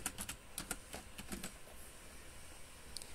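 Fingers type a short word on a computer keyboard, a quick run of soft, close key clicks in small bursts, faint and otherwise quiet.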